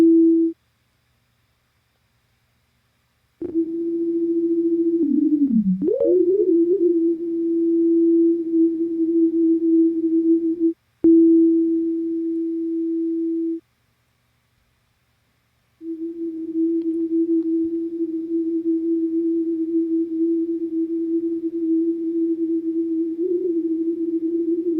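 Synthesizer tone processed with a Max for Live grain freeze effect, a steady held electronic drone with brief pitch wobbles, stopping and restarting in long sections with silent gaps, and no voices.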